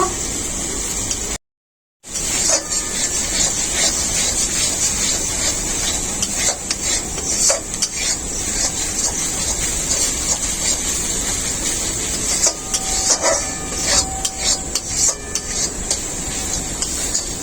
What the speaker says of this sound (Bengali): মশলা খুব ভালোভাবে কষানো হয়ে গেছে, মশলার গা থেকে তেল ছেড়ে গেছে